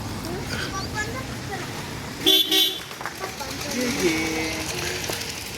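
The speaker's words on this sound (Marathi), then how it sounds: "गाडी आली बघ" A vehicle arrives in a village and sounds a short double horn blast over a running engine, while nearby voices talk throughout.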